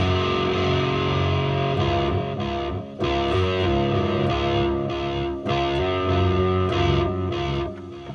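Distorted electric guitar chords ring out through a small Bugera tube amp with a simple delay tail, steady and fairly loud, with brief dips between strums.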